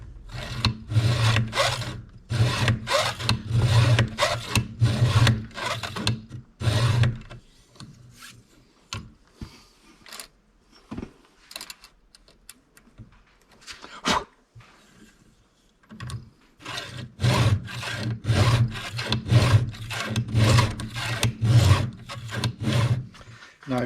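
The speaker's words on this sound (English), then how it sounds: "Now I've sharpened the row of teeth going this direction. You always want to sharpen with the file moving forward." Saw teeth are sharpened with a hand file in quick, rhythmic forward rasping strokes, close and loud, with a quieter stretch of scattered scrapes and clicks in the middle before the steady filing resumes.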